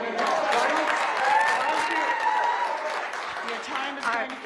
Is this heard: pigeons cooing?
no